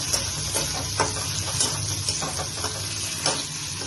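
Potato pieces sizzle in a hot pan for vegetable fried rice, a bright continuous frying hiss with light scrapes and stirring taps close by.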